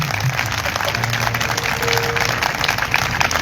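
A church congregation at a live meeting in Karachi breaks into loud, sustained applause, dense clapping filling the room with a faint voice and crowd murmur mixed in.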